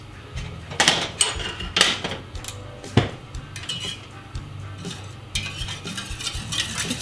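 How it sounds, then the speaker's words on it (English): A whisk clatters against the inside of a pot of lemon sauce, giving sharp metallic knocks and scraping stirs in an irregular rhythm, close up with no voice. "Using a whisk."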